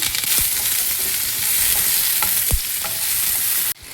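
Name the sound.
onion, garlic and curry leaves frying in a pan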